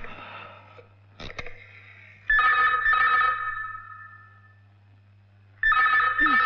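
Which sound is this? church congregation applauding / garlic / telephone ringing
telephone ringing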